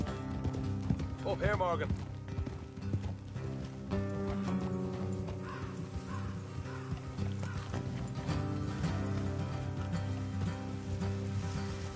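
Horses clip-clopping in Red Dead Redemption 2, hooves under a steady game music bed with a brief whinny, while a voice speaks over the ride.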